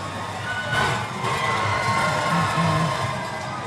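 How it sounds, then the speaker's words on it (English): Spectators line the course of the 2025 Chicago Marathon near the 39 km mark, a broad sustained roar of cheering and shouting that swells slightly midway and holds steady without a break. "It's starting to get really loud around here. Yeah. With the cheering sections."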